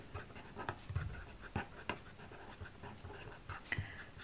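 Pen writing on paper during a math lesson, soft scratchy strokes and taps in an irregular rhythm, close and quiet.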